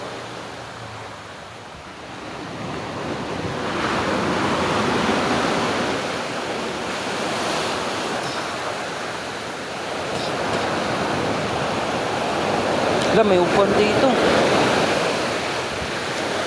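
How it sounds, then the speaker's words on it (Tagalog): Big ocean waves roll and crash close by in a steady, loud roar of surf, with wind buffeting the microphone. Brief voices are heard over the water. "Nakakatakot, ang lalaki po ng alon."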